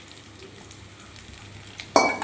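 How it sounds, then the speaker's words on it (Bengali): Onions and green chilies hit hot oil in a pan near the end, producing a sudden loud sizzle burst after a quiet stretch of low background hum. "এটাও 2-4 মিনিট ভাজা ভাজা করে নেব।"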